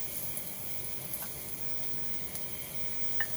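Shallots and Chinese sausage fry in oil in a home kitchen, giving a steady, soft sizzling hiss with a few faint crackles and no talk.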